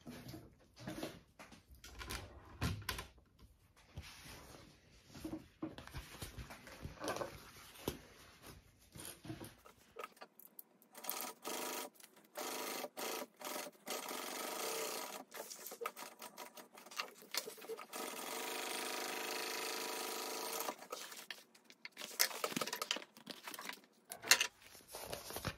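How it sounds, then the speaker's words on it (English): A sewing machine stitches along the strap anchor of a backpack in short, rapid bursts separated by pauses, with a longer steady run of stitching near the end. The machine is close and alone. "so now I want to sew along the edge of the strap anchor"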